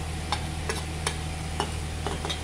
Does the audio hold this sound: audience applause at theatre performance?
no